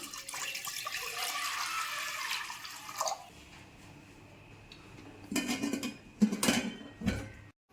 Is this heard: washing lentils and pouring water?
yes